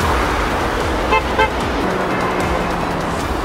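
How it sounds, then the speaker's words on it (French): Two short car horn toots sound close together over steady road traffic noise. "Ils me klaxonnent."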